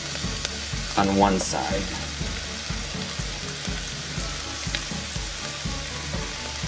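Brussels sprouts sizzling in olive oil with onion and pepper in a pan, a steady, close frying crackle with a brief clatter and stirring as they go in, while a voice speaks briefly.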